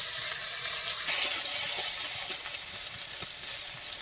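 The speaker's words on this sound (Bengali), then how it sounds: "পেঁয়াজ রসুনটা একটু নেড়ে নিলাম।" Onion and garlic with ginger and cumin being stirred as they fry in a pan, a steady loud sizzle and hiss with scattered soft scraping taps from the stirring throughout.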